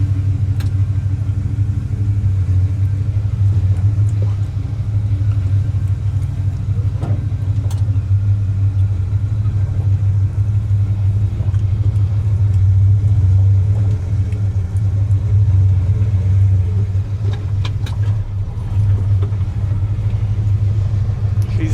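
An old green truck with a rough clutch and no power steering drives along, its engine rumbling loud and steady throughout, with low-frequency drone and occasional faint clanks, no talking.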